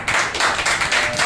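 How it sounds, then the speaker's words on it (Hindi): An audience claps loudly and continuously during a Wednesday church service, dense applause filling the short moment with no voices over it. "जोरदार ताली इसके लिए भी।"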